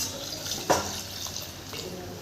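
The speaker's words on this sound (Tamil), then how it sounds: "தேவையான அளவுக்கு தண்ணி ஊற்றிடலாம்" Water is poured into a pot of millet pongal with lentils, cumin and asafoetida, making a steady splashing hiss with one brief louder splash early on.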